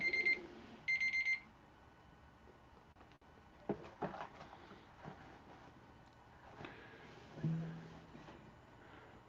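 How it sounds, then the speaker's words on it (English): An electronic alarm sounds in two short bursts of rapid beeping at the start, then gives way to quiet room noise with scattered clicks and knocks. "there's an alarm"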